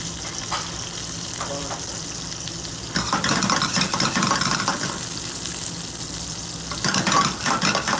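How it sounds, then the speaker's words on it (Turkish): Capers and cracked Antakya olives bubble in hot olive oil in a pan for a shrimp rigatoni sauce, a dense steady sizzle that swells louder midway, with faint stirring. "bir kaynatıyoruz ki tuz alınsın diye"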